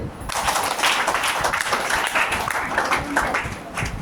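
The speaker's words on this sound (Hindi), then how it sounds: "जोड़ा ताली।" Vigorous clapping from a seated audience at a health talk, a dense, continuous burst of hand claps sustained for several seconds, fairly loud and close.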